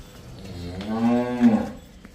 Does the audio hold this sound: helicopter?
no